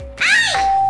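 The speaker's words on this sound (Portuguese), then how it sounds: "Posso usar você pra tocar a campainha?" A doorbell in the Minecraft video game chimes once, a short ding-dong with a sweeping tone followed by a steady ringing note, loud and close.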